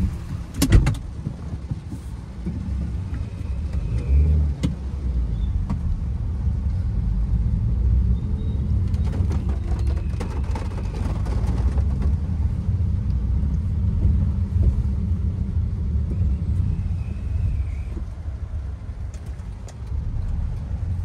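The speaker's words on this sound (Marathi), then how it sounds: "सो आता पुलावरून पाणी गेलंच आता ह्या गाड्या बघा" Low, steady rumble of vehicles driving across a flooded bridge at Shahapur-Sapgaon during continuous rain, continuous engine drone with occasional splashing hiss, fairly close and unbroken throughout.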